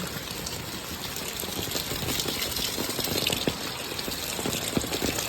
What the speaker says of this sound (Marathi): खूप मोठं पाऊस पडता सकाळपासून